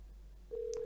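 Electronic telephone ring in the OneShot video game, a single steady tone starting halfway through after quiet, clean and fairly close with no talk.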